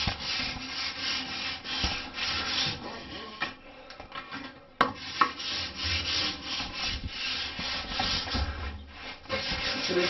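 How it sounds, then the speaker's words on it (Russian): Coarse sandpaper scrapes over a bathtub surface being prepared for liquid acrylic coating, with continuous close rhythmic strokes, a brief knock midway, and no talking. "и начинаем зачищать. Зачищаем всю ванну."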